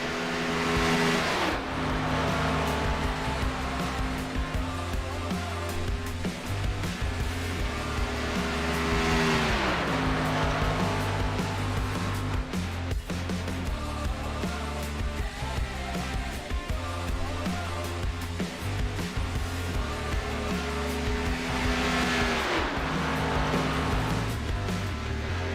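NASCAR Cup Series race cars in the iRacing sim at Montreal hold a continuous loud engine drone, with pitch sweeping down and back up as the cars shift and brake through corners and run on steadily without talk.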